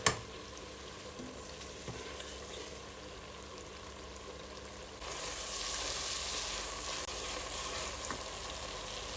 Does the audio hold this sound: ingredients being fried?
yes